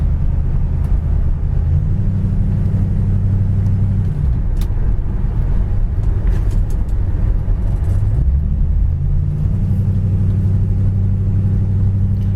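A 1966 Ford Fairlane engine and exhaust rumble steadily from inside the car while driving, a loud deep drone that dips and rises with shifts in speed, no talking.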